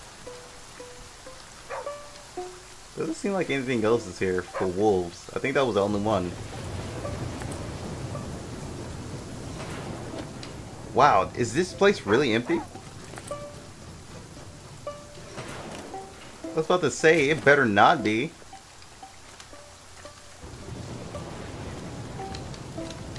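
Steady rain pours over a wilderness setting in the survival game The Flame in the Flood, a continuous wash running under stretches of conversational talk, with no distinct thunder clap standing out.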